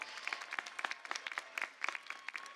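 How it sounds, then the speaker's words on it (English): Faint, distant audience applause at a university commencement ceremony, a steady patter of many hands clapping with scattered louder claps, no speech over it. "she deserves a big round of applause."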